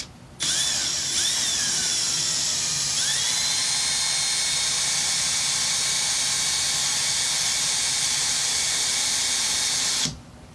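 A power drill bores a hole through a round motorcycle handlebar on a CB650 project, a steady high-pitched whine running about ten seconds alone, with slight pitch dips as the bit bites, then stopping abruptly.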